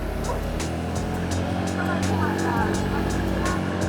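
Yamaha Fazzio motor scooter riding on a road, its engine drone and road rumble steady and close under wind noise while the rider talks.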